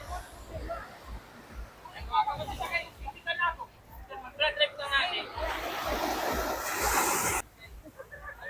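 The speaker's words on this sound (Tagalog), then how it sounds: "medyo maalon" Moderately rough sea waves wash and surge under gusty wind, swelling into a loud rushing break near the end, with faint voices murmuring in the background.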